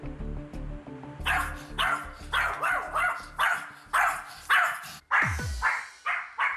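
An anxious, highly excited problem dog barks repeatedly in loud, rapid bursts, a near and insistent series of sharp barks with brief yelps between them, and no talk.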